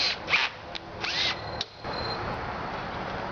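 Power drill boring holes while building an oven for an oven rack: several short whirring bursts of the bit starting and stopping, followed by a steadier run of the motor, close and fairly loud.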